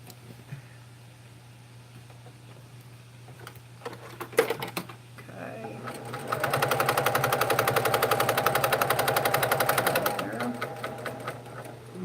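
A sewing machine stitches down quilt binding in one steady, rapid run of about four seconds, after a few quiet handling clicks and knocks, then slows and stops.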